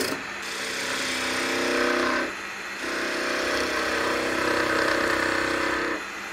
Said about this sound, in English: we'll just do some peeling cuts to kind of get some of this out of the way